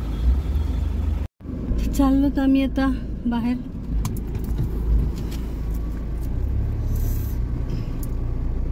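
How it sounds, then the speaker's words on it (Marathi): A car engine runs steadily after starting, a low, even rumble that continues throughout while someone talks nearby. "ह्याने लगेच गाडी चालू केली"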